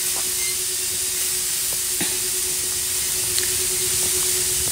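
A sprayer applying magnesium and liquid fertilizer over onion seedlings in a field gives a steady, continuous hiss, loud and unbroken throughout, with a faint constant hum and a few light knocks, no speech.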